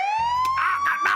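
A police siren sound effect rises in a steady wail, loud and close, with brief bursts of talk and a low rhythmic thumping layered underneath.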